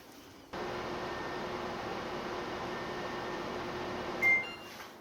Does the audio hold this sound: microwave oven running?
yes